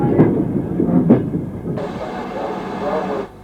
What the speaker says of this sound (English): BR Standard Class 2 number 78018 on this Esso train